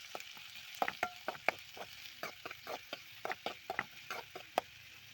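Onions frying in a pan with coconut, a soft steady sizzle broken by frequent sharp crackles and pops, close by, with no talking.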